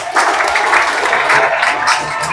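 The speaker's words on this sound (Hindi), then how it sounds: "तो आप जरा ताली बजा दो" Children in a classroom clap together for a classmate during a creativity program session, a steady burst of many small hands lasting a couple of seconds at close range.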